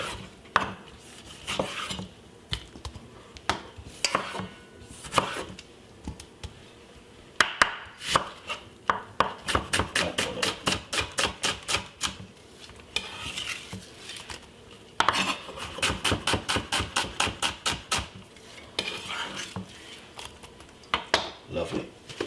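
Knife chopping tomatoes into quarters on a board in a home kitchen, a long run of rapid, evenly spaced close taps in two bursts, with scattered utensil clinks and knocks around them.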